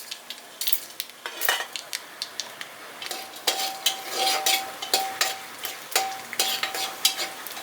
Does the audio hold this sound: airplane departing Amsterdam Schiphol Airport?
no